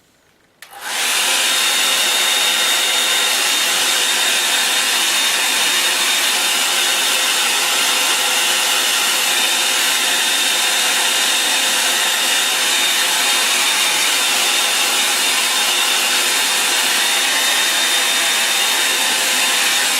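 A hair dryer drying a watercolour painting switches on after a moment of quiet and then blows as a loud, steady whooshing roar with a thin constant whine, running unbroken to the end.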